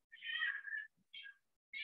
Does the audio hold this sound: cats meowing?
yes